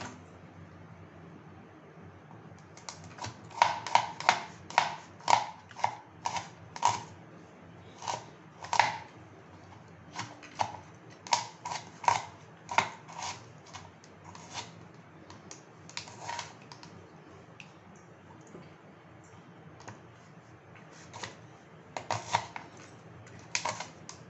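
Small onions being finely chopped with a knife for a jackfruit mango bharta, a long run of crisp, irregular taps on a board, faster bursts with short pauses, close and clear, no talking.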